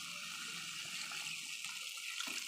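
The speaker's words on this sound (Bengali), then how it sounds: "এবার জল দেবো" Water is poured into a cooking pot of boiled gathi taro for a small-fish curry, giving a steady rushing, splashing stream at close range that lasts throughout, with no voices.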